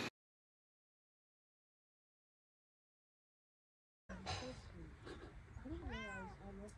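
A cat meows several times, close and clear, after a few seconds of silence, with people talking softly over it in a workshop where a welded jon boat is being readied.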